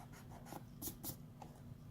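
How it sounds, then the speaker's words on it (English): A pencil eraser rubs out lines on a hand-drawn auxiliary view, making several short, scratchy rubbing strokes close by and fairly quiet. "I got to erase some lines here."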